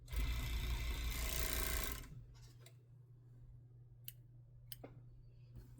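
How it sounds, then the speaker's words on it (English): A sewing machine stitching a garment crotch seam whirs loudly for about two seconds and then stops, leaving a low hum with a few scattered clicks. "we're just going to sew the crotch seam"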